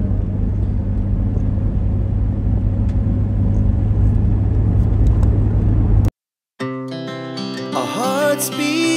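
Steady low engine rumble of a four-wheeled car entering the Reformasi toll road in Makassar, a continuous road drone that cuts off abruptly and gives way to music.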